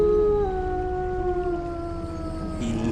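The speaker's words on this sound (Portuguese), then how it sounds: "logo todos nós ouvimos um uivo tenebroso encher a casa" A long, eerie wolf howl fills a house as a sound effect for a werewolf story, a loud, sustained wavering tone that glides slowly downward and stays unbroken, close and alone.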